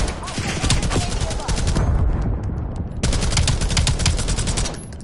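Automatic gunfire in the video game Call of Duty: Black Ops 7, loud and close. Rapid bursts of shots rattle almost without break, with a short lull partway through before the firing resumes.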